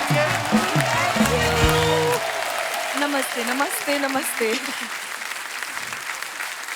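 A studio audience applauds loudly and continuously for TV actresses on a Hindi comedy talk show, while a performer speaks brief greetings over the clapping before it carries on alone.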